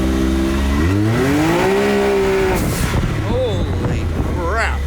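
A turbocharged car engine revs hard, its pitch climbing and holding before dropping away, then a few shorter rising revs with turbo whine; loud and close over constant background noise.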